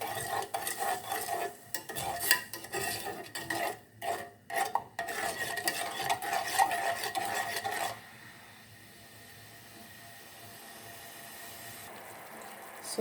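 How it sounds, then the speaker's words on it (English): A spoon stirs a pot of boiling sugar syrup for a coconut-roll glaze, giving repeated close scraping and rubbing strokes for several seconds before the sound drops to a quiet, steady bubbling hiss. "Just going to give it a little stir. Just want the sugar to melt"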